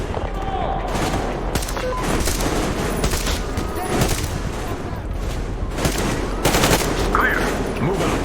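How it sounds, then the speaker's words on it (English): Covering gunfire in a video game, with bursts of rapid automatic shots and scattered single cracks across the whole stretch. Loud and close, and voices speak over the shooting. "Covering fire for the Colonel. No saving ammo."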